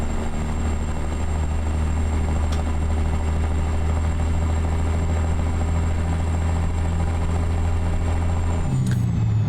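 A ZeeMod 3406b truck engine of about 14.8 liters idles in American Truck Simulator, a loud, steady low rumble with a constant whine above it, shifting briefly near the end.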